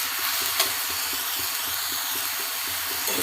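Grated coconut and vegetables, potato among them, sautéing in a pan for a Bengali banana-flower dish, with a steady close hiss and sizzle and faint regular scraping of stirring throughout, no voices.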